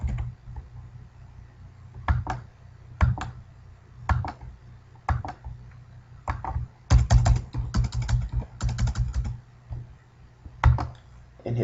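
Fingers typing on a computer keyboard to fill out an online form, close irregular bursts of clicky keystrokes with short pauses between runs.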